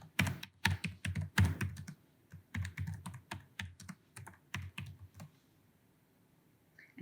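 Typing on a computer keyboard while composing a message, a quick irregular run of crisp key clicks close by, dense at first and thinning out before stopping near the end, with no voices.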